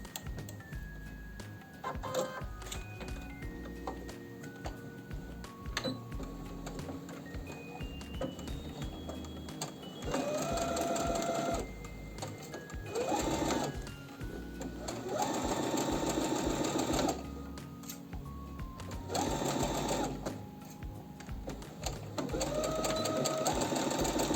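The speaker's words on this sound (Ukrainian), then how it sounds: "Зараз прокладу строчку." Sewing machine stitching a seam on the cuff of a pajama shirt, running in several steady bursts with short pauses between them, close and fairly loud.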